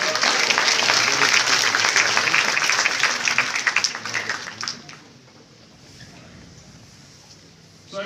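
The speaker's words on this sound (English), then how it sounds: "Let's welcome Amit with a huge round of applause." An indoor audience applauds to welcome a speaker, a dense burst of clapping for about five seconds that fades quickly, leaving quiet room tone.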